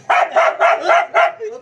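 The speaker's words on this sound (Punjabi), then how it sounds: "ਪਤੰਦਰ ਆਪਣੀ ਫੋਟੋ ਦੇਖ ਦੇਖ ਕੇ ਭੌਂਕੀ ਜਾ ਰਹੇ।" A dog barks five times in quick, even succession, loud and close, with nothing else heard.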